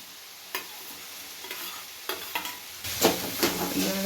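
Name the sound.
frying green chillies and onion, stirring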